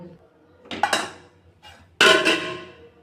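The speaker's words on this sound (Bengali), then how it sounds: "এবার ঢাকনাটাকে আমি সরিয়ে নিব।" A lid lifted off a clay griddle pan on a clay stove, two clattering scrapes and knocks of the lid, the second louder and ringing briefly, close by.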